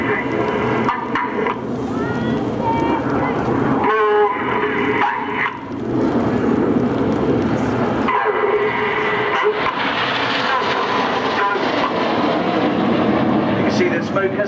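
Red Arrows jets flying in battle formation at the Farnborough 2012 air show, a continuous loud engine roar that swells and fades as the aircraft pass, mixed with crowd and commentary-style talk.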